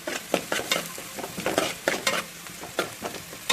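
Vegetables for chicken fried rice, seasoned with salt and a pinch of turmeric, sizzle in a hot pan while being stirred, with a steady fry hiss broken by repeated scraping strokes, close and fairly loud.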